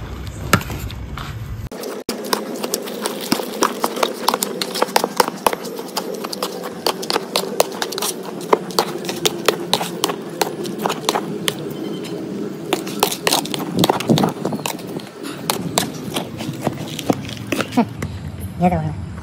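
A homemade carp bait mixture is worked around a bowl, giving wet squelching and a busy run of sharp clicks and taps from the utensil, with a voice present for much of the time.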